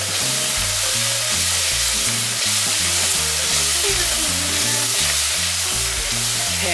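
Garlic sizzling steadily in a hot pan for mac and cheese, a loud, continuous frying hiss with a rhythmic stirring pattern running underneath throughout.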